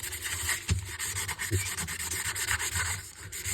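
Close, steady rubbing of 180 grit sandpaper across a plastic part, a continuous rasping scrub with rhythmic back-and-forth strokes and no talk.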